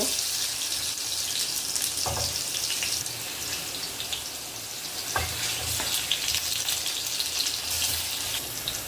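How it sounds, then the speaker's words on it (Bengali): Potato pieces frying in hot oil in a pan for a Bengali pulao and chicken dish, a steady close sizzle with a few louder stirring scrapes and clatters, no talking. "এবার আলুটাকে একটু ব্রাউন করে ভেজে নেব।"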